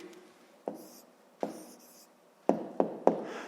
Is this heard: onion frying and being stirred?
no